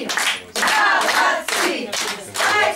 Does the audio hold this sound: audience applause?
yes